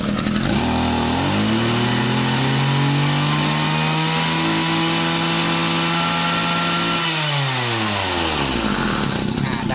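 A used Japanese Maruyama 26 brush cutter's small two-stroke engine revs up from idle to a loud, high-pitched sustained whine for several seconds, then drops back down, recorded close up.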